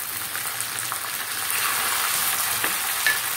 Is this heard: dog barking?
no